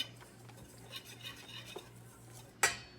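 A utensil stirs cornmeal and self-rising flour in a bowl, with soft scraping and light clinks that build to a sharper knock against the bowl near the end, close and fairly quiet.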